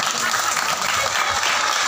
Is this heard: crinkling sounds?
no